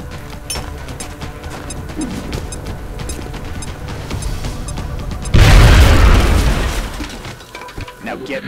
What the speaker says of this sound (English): Now toss your grenade at the enemy in front of you.